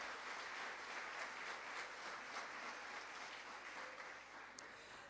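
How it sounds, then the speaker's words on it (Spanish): An audience at a university ceremony for UNDAV's 15th anniversary applauds in a steady, dense wash of clapping that is faint and distant and lasts throughout. "que también amerita un fuerte aplauso"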